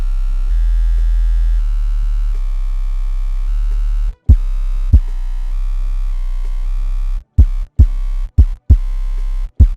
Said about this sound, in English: If you lower this even farther, the distortion gets louder.